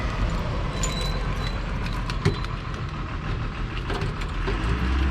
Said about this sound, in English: FedEx truck just passed by.